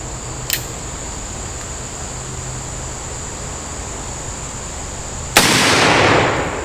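An 1858 Remington cap and ball revolver fires a single loud, sharp shot outdoors, its blast trailing into a brief rumbling decay, preceded by a faint click and steady background hiss.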